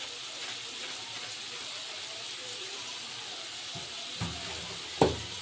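Masala of Kashmiri chilli, chilli and amchur powder frying in a pan for a bitter gourd dish, giving a steady soft sizzle with a couple of brief clinks of a spoon near the end.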